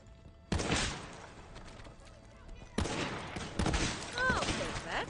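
Bursts of video game gunfire in Borderlands 3, loud rapid volleys that cut in suddenly, pause, then return in sustained automatic strings with a faint voice briefly underneath.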